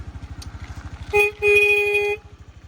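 Horn of a Honda Dio 110 cc JF31 fuel-injected scooter, sounding two short close honks, a brief tap and then a longer blast, over the scooter's idling engine putter.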